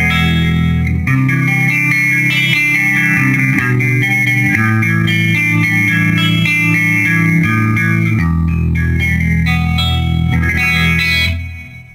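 PRS McCarty guitar with humbuckers in the middle pickup position, played through a 1977 Quad Reverb amp on the clean channel: loud sustained chords with rich reverb ringing throughout, ending in a fading decay.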